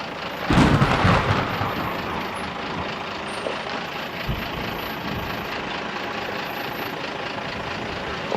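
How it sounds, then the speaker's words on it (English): A thunderstorm over the desert of the American Southwest opens with a loud, broad crack of thunder near the start, then settles into a steady rumbling wash of rain and wind that continues throughout. "we are greeted by a thunderstorm as we set off"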